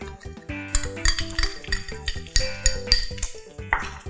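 Garlic tipped into a pan after bacon oil is poured off, with close metallic clinks and scrapes of a utensil against the pan in a quick, busy rhythm, no voice.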